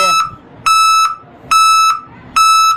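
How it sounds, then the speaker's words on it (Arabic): A loud electronic beeping tone from an added car reverse siren repeats in a steady on-off pattern, four pulses with short gaps, like a vehicle reversing alarm. "دي سرينة للستوب وسرينة للرجوع للخلف"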